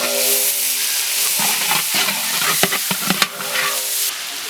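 Sliced onions hit hot oil already seasoned with cinnamon and other whole spices for a vegetable biryani. The sizzle is steady and close, broken by a few sharp clicks of stirring against the pan.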